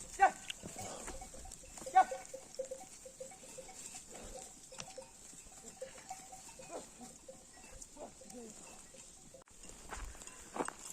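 A flock of sheep and goats grazing on a rocky hillside: scattered bleats and soft animal sounds, with a faint bell now and then, over a steady background hiss, mostly distant and quiet.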